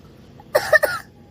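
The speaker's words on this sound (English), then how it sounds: "Oh, a cough. It's a cough." A short fit of three quick coughs, close by and moderately loud, against faint background hiss.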